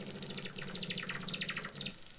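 A shortwave radio signal chirps like a tweeting bird, a steady run of rapid, bright warbling pulses over faint static hiss, heard alone without talk.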